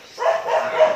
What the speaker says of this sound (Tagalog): Ingay nung aso mo, Ate Salvi.